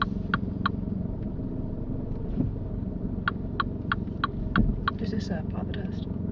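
A car engine runs with a steady low rumble during a mock UK driving test, while a regular series of sharp ticks sounds over it and faint voices murmur in the background.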